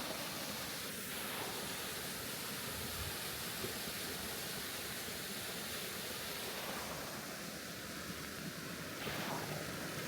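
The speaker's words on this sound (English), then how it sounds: "it's a decent sized waterfall" Steady broadband roar of a decent-sized jungle waterfall in Thailand, a constant rushing wash of falling water close by with no other sounds standing out.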